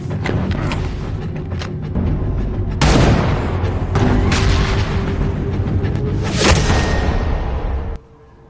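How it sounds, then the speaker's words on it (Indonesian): Sniper and gunfire shots in a conflict film scene ring out as several loud, booming blasts with whooshing tails. Heavy rumble fills the gaps between them until the sound cuts off abruptly near the end. "Yuki sendiri gagal menembak Brandon"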